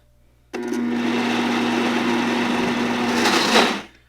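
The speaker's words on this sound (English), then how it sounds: "let's just see if we can get the rest of that blended in there" A Vitamix blender runs on a gluten-free, vegan, nut-free bread batter, starting abruptly and holding a loud, steady whirring motor drone for about three seconds before winding down, heard alone.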